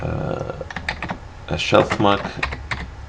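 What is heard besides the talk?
typing on a computer keyboard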